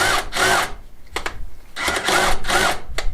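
A power drill undoes bolts on a flue during a stone finca restoration, running in loud whirring bursts separated by short pauses, near and alone.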